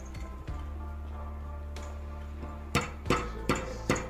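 Sharp chipping strikes on a hard frozen heart, four distinct hits near the end after a quieter stretch of scraping and hum.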